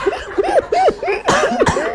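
A short burst of several rapid coughing or chuckling exhalations in quick succession, close and moderately loud, with no speech.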